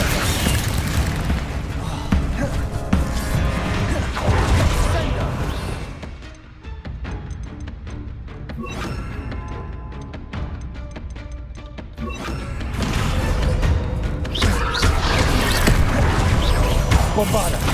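Heavy booming slams and crashing impacts from Descendo spells hurled at enemies in Hogwarts Legacy, repeating through loud layered combat noise with a brief quieter stretch midway.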